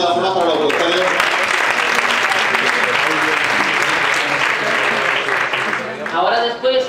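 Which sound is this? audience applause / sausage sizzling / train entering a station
audience applause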